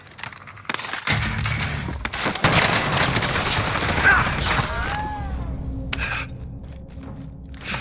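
Loud, sustained automatic gunfire and bursts in a Call of Duty: Modern Warfare match, dense and close with mechanical clatter and a sharp crack near the end.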